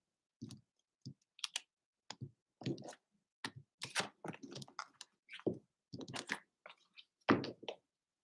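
Tarot cards being shuffled, heard alone as a quiet, irregular run of sharp clicks, taps and soft card slaps spread across several seconds with brief pauses between them.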